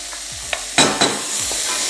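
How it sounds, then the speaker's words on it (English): Cauliflower and Brazil nuts stirred in a pot over full heat: a few scraping, clattering stirs with a short loud burst partway through over a steady sizzle, no talking. "The heat is now turned up. Full. Give it a stir. Brazil nuts go in as well."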